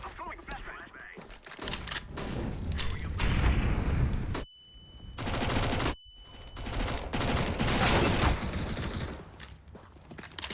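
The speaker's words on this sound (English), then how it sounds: "I'm throwing a flashbang." CS:GO match with dense, loud gunfire and explosive game effects, including a flashbang going off, with a sharp ringing tone and brief dropouts, as players talk over the action.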